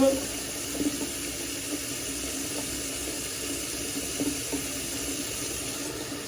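Hot tap water runs steadily into a sink while gloved hands are rinsed under it, a continuous close hiss and splash with small bumps of handling.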